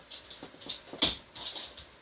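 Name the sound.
dog whimpering, agitated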